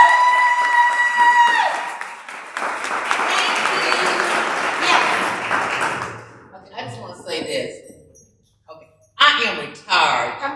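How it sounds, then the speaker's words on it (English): Audience applause for conference panelists at a community gathering on Black neighborhoods and storytelling, a loud sustained wash of clapping that tails off into scattered claps and a voice speaking. "if we can give a round of applause for our amazing panelists"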